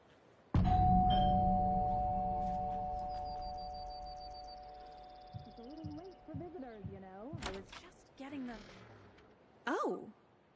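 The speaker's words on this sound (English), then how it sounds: "Why would I ring the doorbell?" A doorbell in the video game Alan Wake 2 sounds a loud ringing chime that fades slowly, followed by a person talking and a later short tone.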